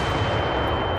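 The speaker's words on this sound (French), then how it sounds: "Donc ça c'était un pétard pour pas trop cher." Firecracker exploding in the Roblox video game, a dense, loud broadband burst that fills the full second with rumbling, crackling noise and no talk.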